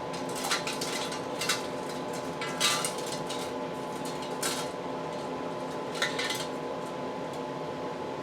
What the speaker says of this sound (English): using your magnet, you get out a lid